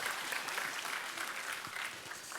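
A church congregation applauds at a Friday evangelism school service, a steady wash of clapping from a moderately distant crowd sustained throughout.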